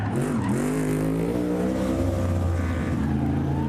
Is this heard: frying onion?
no